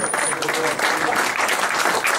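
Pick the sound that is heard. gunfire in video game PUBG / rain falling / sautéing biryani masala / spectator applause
spectator applause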